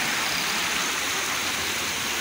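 Rainwater overflowing down a street staircase in Itaquera, São Paulo, after a hailstorm, a loud, dense, continuous rushing wash filling the whole moment with no breaks and no voices.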